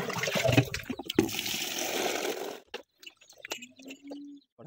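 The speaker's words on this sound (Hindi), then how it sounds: "पहले पानी पिलाते हैं भैंस को।" A buffalo slurps and laps water with wet, sloshing gulps for a few seconds, then goes quiet apart from sparse small sounds.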